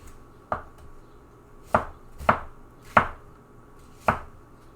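Five sharp knife strokes chop through an onion on a cutting board, spaced unevenly with a quick pair in the middle, close and crisp over a quiet room.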